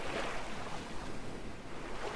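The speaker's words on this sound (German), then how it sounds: "Okay, ich gehe jetzt mal ins Wasser." A character wades into water in the video game Ghost Recon Breakpoint, giving a continuous rushing, surf-like swish of splashing water with a low rumble, steady and fairly quiet, with no talk.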